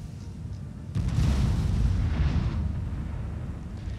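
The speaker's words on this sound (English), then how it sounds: "with my artillery not actually fire at troops, fire at these buildings here to get them out of the way" Artillery fires at buildings in a strategy game set in the Battle of Mansoura, France against Mamluk rebels: one deep, booming shot bursts out suddenly and its rumbling tail fades slowly under distant battle ambience.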